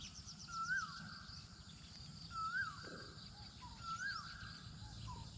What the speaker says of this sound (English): There's the kowal bird.